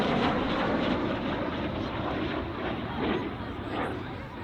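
A Mikoyan-Gourevitch MiG-17F jet flies past at an air show, its broad roaring engine noise steady and sustained throughout, loud but somewhat distant, with no talk over it.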